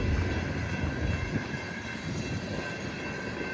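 A CSX freight train rolls past in a blizzard as a steady, dense rumble of wheels and cars that fills the whole stretch without a break.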